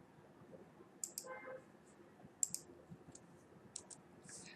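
A computer mouse clicks several times at close range, sharp isolated taps spread across a quiet room with faint background hum.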